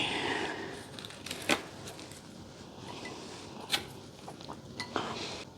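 Pieces of homemade cashew nut burfi are moved onto a plate with a metal utensil, giving a few sharp, scattered clinks and taps over a soft, quiet background.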